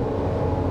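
A 2024 Toyota Grand Highlander Limited SUV pulling away in a steady, loud engine drone with road rumble, brief and continuous with no talking.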